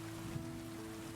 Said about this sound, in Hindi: बाहर बारिश ने अब जोर पकड़ लिया था। बूंदों का शोर टिन और छप्पर पर एक अनवरत ताल ठोक रहा था